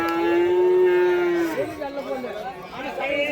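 A native cow at a Vaniyambadi cattle market lets out one long, loud moo of over a second. Crowd chatter and talking go on around it afterward.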